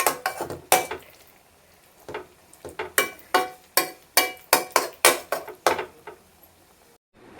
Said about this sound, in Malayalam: ഇളക്കി യോജിപ്പിച്ചു